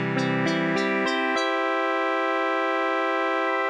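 A synthesizer builds a chord one note at a time in quick steps, then the lower notes suddenly drop out as their voices are stolen, leaving a thin sustained tone ringing steadily to the end.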